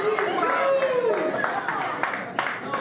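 Crowd at a wrestling show at Tolton Joe's in La Mesa claps and cheers steadily through the moment, with a commentator talking loudly over the noise.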